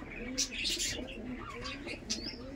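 Andhra pigeons coo in low, repeated throaty phrases, with sharper chirps and a brief flutter mixed in, all close and steady throughout.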